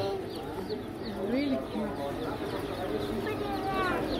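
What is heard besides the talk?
chicks clucking and chirping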